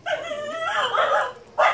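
Dogs at an animal shelter in Bukavu give a drawn-out whining yelp that rises and wavers, then end on a short sharp bark, close and fairly loud.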